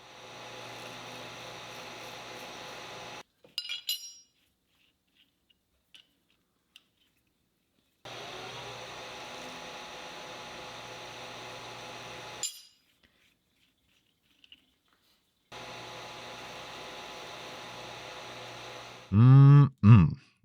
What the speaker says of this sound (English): so it's back to the lathe